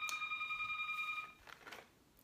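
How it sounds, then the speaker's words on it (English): A telephone rings in a college dorm room, giving a faint, steady electronic tone for about a second before it stops. A few soft bumps follow in a quiet room. "the phone's ringing"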